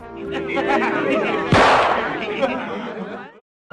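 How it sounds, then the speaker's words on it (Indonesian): A sharp gunshot bursts out midway through tense film-style audio with music and voices underneath, followed by a lingering ring before silence. "Ternyata itu suara tembakan kapten"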